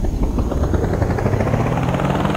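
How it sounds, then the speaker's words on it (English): A loud, close video game helicopter thrums with fast, steady rotor chopping and a droning engine whine throughout. "you can spawn in vehicles like this helicopter"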